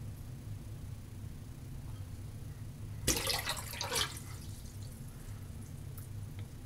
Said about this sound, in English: Pour most of the bloom water off into the bug